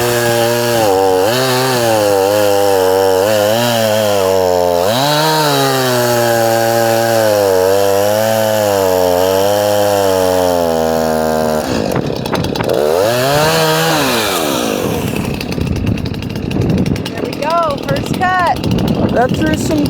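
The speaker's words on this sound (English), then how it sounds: "Stepping away from the saw so you guys can hear me better." A new chainsaw cuts wood, loud and close, revving up and down through the cut, then bogging and rising again in the second half, a voice heard briefly under the saw.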